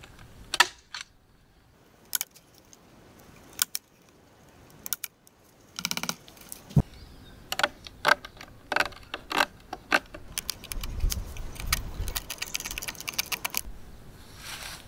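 A small hand staple gun fixes stretched mesh around a wooden frame with sharp, scattered clicks and snaps. The shots start sparse, then come faster, with soft handling noise between them.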